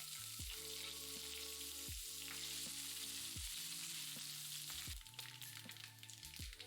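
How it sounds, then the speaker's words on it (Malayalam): Coconut pieces frying in two tablespoons of coconut oil with popped mustard seeds for jackfruit seed stir-fry, a steady close sizzle with faint stirring scrapes, slightly quieter and crackly toward the end, no voices. "പിന്നെ കുറച്ച് തേങ്ങാക്കൊത്തിട്ട് മൂപ്പിക്കുക"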